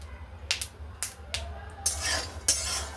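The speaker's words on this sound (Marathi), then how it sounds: "आता आपण हे भाजून घेऊ।" A spoon scrapes and clinks against a metal pan in a few sharp strokes as peanuts roast over a medium flame, with a soft rattling and faint sizzle between them.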